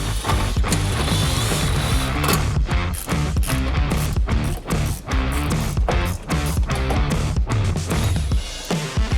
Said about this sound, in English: go ahead and remove both mud flaps using a T15 Torx bit